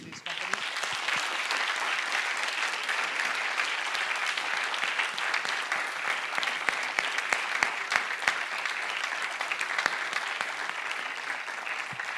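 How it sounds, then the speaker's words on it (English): Audience at a fintech recruiting event gives sustained, dense applause for the sponsors, holding steady throughout with scattered sharper claps standing out near the end. "So I want to give a big round of applause to these companies."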